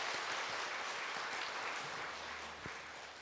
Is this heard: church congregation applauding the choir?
yes